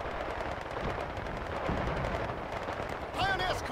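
Distant battle gunfire in the Company of Heroes 2 video game: a continuous rolling wash of far-off machine-gun and artillery fire, moderately loud, with a brief sharper burst near the end.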